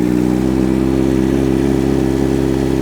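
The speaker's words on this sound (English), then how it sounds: "Let's see if the bike turns over okay now." A Kawasaki Z H2 motorcycle engine runs steadily at close range, a loud, even idle drone with a constant low rumble and no speech over it.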